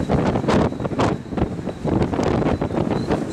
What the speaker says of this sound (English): And it's really windy out here. It's even blowing my shirt up.